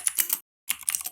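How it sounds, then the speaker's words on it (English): Bursts of fast keystrokes on a computer keyboard during a competitive programming session, two close, crisp clusters of clicks separated by a short silent gap. "how do you guys like my keyboard sounds?"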